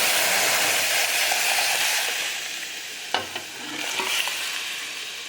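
Toor dal frying in hot oil in a pan for murungai keerai koottu, a loud bright steady sizzle with a couple of sharp stirring clinks and scrapes near the middle, close up and without talk.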